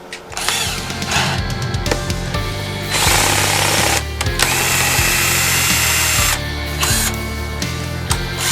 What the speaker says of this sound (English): I'm gonna pop one of those in the drill here, and we'll give that a shot